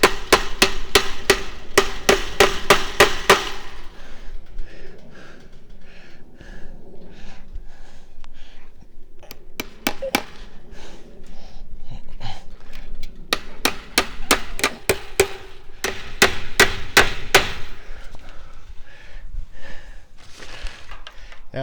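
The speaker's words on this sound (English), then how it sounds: "I went every 10 feet on my post and stretched it and tacked it" Fence wire is tacked onto wooden posts with a hammer in sharp, loud bursts of rapid blows, a quieter stretch of scattered knocks between them, then more fast strikes close up.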